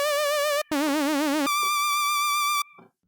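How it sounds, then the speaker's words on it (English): Bright synthesizer tones made with the Sytrus synth carry a wobbling vibrato on the first two notes, then a steady held tone without vibrato, closely recorded and alone. "Today I'm gonna to teach you how to make vibrato sound"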